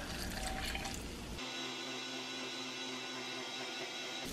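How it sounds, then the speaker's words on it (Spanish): Water pours into a cooking pan holding tomato, garlic, onion and cumin for a chickpea and pepper-strip dish, a splashing rush that stops abruptly after about a second and a half, leaving a quiet hiss. "Voy a poner el agua."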